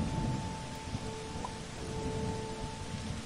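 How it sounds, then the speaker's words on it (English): Steady rain with a low rumbling thunder bed from the video game Dead Maze, heard as constant hissing patter with a faint continuous tone over it. "and now it's raining"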